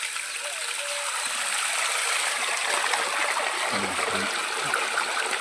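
Irrigation water gushing steadily into a field at morning, a continuous rushing stream close by with no let-up, faint background sounds mixed in.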